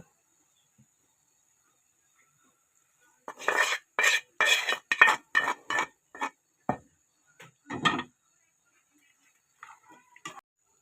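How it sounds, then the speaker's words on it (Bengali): A metal spoon scrapes and clinks against a pot while beef kala bhuna is stirred with fried chopped garlic, a burst of quick, close, irregular clatters followed by a few sparse taps. "দুই তিন মিনিট নাড়াচাড়া করব"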